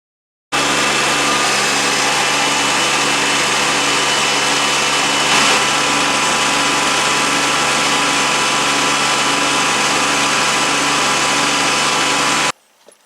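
A Kubota B2601 compact tractor mowing with an RCK60-32 mower deck, a loud steady engine and blade whine running continuously near the microphone and cutting off abruptly at the end.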